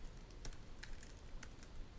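Keys clatter on a computer keyboard in quick irregular bursts, close and fairly loud against a steady low hum, with no talking.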